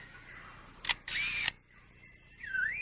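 A lyrebird mimics a camera: a shutter click followed by a rapid whirring motor-drive burst, then soft electronic warbling notes, all faint and without voices.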